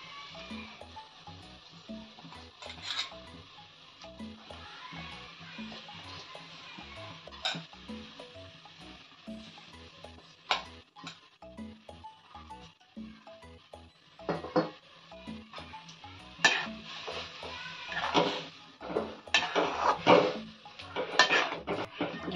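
Carrots tipped into milk in a pan for gajorer halwa, with intermittent clanks of a spoon against the pan and soft bubbling, louder clattering bursts toward the end, no talk.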